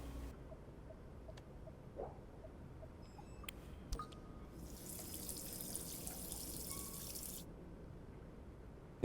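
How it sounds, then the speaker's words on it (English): Water being collected or drunk in the video game D4: a few faint drips, then a steady tap-like rush of running water for about three seconds over a quiet background. "Get that water, get that stamina going up."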